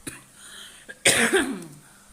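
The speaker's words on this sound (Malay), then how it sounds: "Sorry ya, cikgu batuk lagi ni." A teacher's single harsh cough rings out close by, preceded by faint throat noises and small clicks in an otherwise quiet room.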